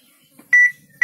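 An Arduino-based airsoft bomb kit timer gives two sharp, loud electronic beeps close to the microphone, separated by a short pause.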